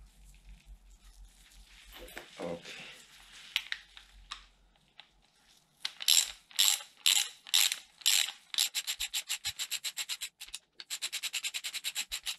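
A ratchet tightens a bolt on the upside-down front fork of a Chinese motorcycle, first with slow rhythmic bursts of clicking and then with fast, even runs of pawl clicks, close and clear.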